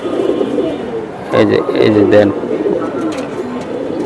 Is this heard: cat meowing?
no